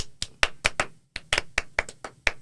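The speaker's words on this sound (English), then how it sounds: "We talking about clapping methods" A person demonstrates palm-method hand clapping, producing about a dozen sharp, close claps in quick, slightly uneven bursts with a short pause partway through.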